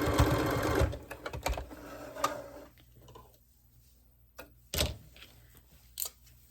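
A sewing machine backstitching on a vintage quilt, a short close burst of running stitches that stops, followed by scattered clicks and knocks as the fabric is handled.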